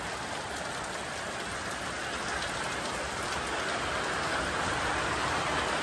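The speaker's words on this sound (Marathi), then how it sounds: "डेंजर असा पाऊस झाला. पावसाळा चालूच झाला आता समजा." Heavy monsoon rain pours down steadily and loudly, a dense, continuous hiss and patter that fills the whole stretch without a break and builds slightly toward the end.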